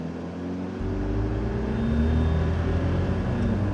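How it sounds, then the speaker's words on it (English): A minivan engine's intake sucks air, humming low and then swelling into a steady, deepening drone as it accelerates, with a breathy rushing tone underneath. "you just hear all the air being sucked into the engine"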